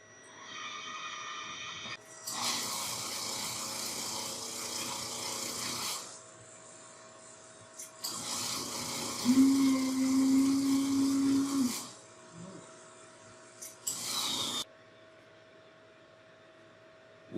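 A Necta Krea Touch coffee machine runs its rinse cycle: loud whirring and hissing bursts of water and pump noise starting and stopping in several long stretches, with a steady hum between them.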